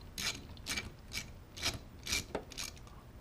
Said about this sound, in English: take this nut off, it's a 10 millimeter